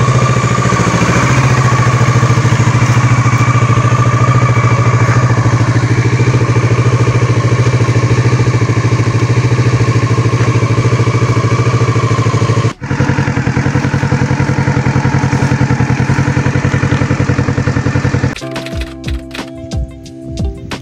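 A motorcycle engine idles loud and close after arriving at a lookout tower site, a steady low rumble with mechanical clatter that cuts briefly, resumes, then gives way to sputtering and handling noise at the end.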